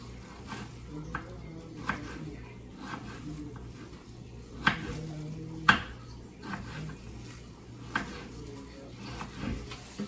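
A knife slicing vegetables on a cutting board while cooking ribs and cabbage, a string of soft irregular chops and clicks with a few sharper knocks, fairly quiet, with low kitchen background and brief talk at times.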